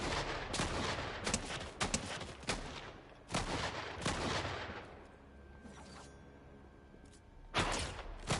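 Gunfire in the video game Fortnite: bursts of rapid shots and single cracks in irregular clusters, loud and close, separated by brief quieter gaps, with no talking.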